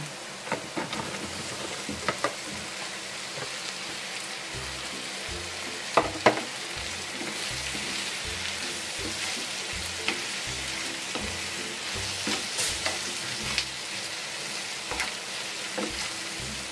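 Fried chicken for a creamy chicken and mushroom dish sizzles loudly and continuously in a pan, with repeated scraping and stirring clatter throughout and no talking.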